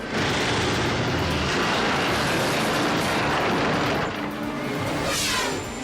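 A low-flying airplane passes over a baseball game, producing a loud, continuous broadband roar that holds steady for several seconds before easing slightly near the end, with no voices.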